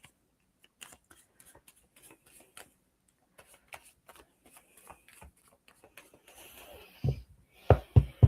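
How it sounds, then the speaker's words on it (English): Tarot cards handled and shuffled during a live psychic reading, with soft scattered flicks and taps that build into louder, quicker riffling bursts toward the end. "let me just pull you a couple of cards quickly."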